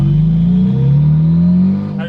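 A Mitsubishi Evo 8 engine revs up close and loud, its pitch climbing smoothly in a single sustained pull before easing off near the end.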